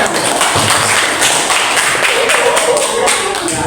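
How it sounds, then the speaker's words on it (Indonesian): Schoolchildren clap together in a classroom during an Indonesian lesson, a dense, steady patter of many hands that holds at an even loudness without pause for several seconds. "Ya, tepuk tangan"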